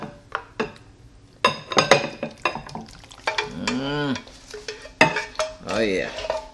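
Stew beef in mushroom gravy is spooned and scraped from a pot into another dish, with close clattering utensil strikes, wet stirring and a few metallic clinks, along with short vocal sounds.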